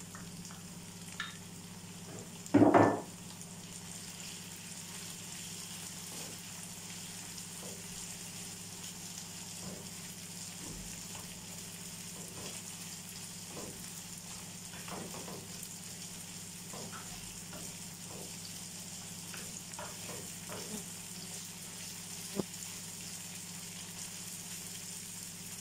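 Tomatoes sizzling and frying in a pan for shawarma in a restaurant kitchen, a steady soft crackle with a few stirring scrapes and one sharp clatter near the start, fairly quiet and close.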